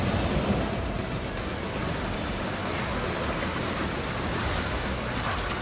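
Heavy rain and floodwater in a village in Kalaburagi district, a dense, continuous roar of rushing water and downpour that stays loud and broadband throughout.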